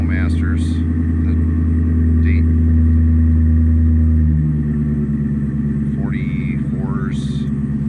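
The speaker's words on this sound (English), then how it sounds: "this is two cats, stock P70 or P-71 exhaust with the Flowmasters" Car exhaust with two catalytic converters, stock P70 or P-71 exhaust and Flowmaster mufflers, a steady loud low rumble that shifts pitch midway, with brief squeaky noises over it and no talk.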